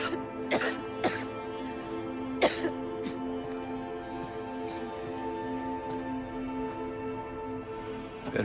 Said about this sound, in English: Better do something about that cough.